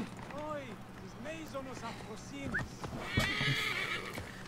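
A horse whinnies amid Assassin's Creed Origins game sound effects and speech, followed by a louder burst of noisy action near the end.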